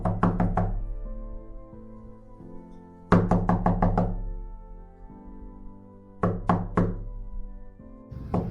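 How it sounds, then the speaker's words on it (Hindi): Loud knocking on a door at night in a Christmas story, heard as three separate clusters of rapid, resonant raps, each followed by a ringing decay of low tones. "अचानक दरवाजे पर जोरदार दस्तक हुई।"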